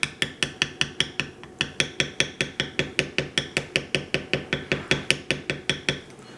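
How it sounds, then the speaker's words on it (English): A mallet strikes a small leather beveler in a fast, even series of sharp taps, about four per second and close by, as the tool is walked along a tooled wild-rose design. "I'm going to use a smaller beveler there."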